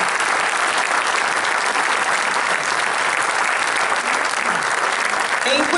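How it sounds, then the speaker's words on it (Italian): An audience at a New Humanism Tour opening event in Formia claps in steady, dense applause that holds throughout. "Quindi un ultimo applauso, perdonateci, ma lo facciamo noi a voi."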